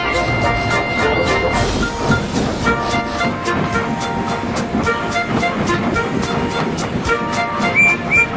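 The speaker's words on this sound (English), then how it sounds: "Soon, Thomas and the big engine pop along on the main line." A cartoon steam engine train runs along the main line with steady clickety-clack rhythm, hissing steam and a busy layered rumble, loud and continuous with musical underscore throughout.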